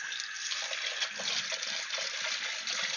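Tap water runs steadily into a pitcher container being rinsed, a continuous close hissing splash with small fluctuations and no voices.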